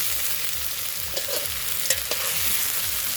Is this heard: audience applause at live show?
no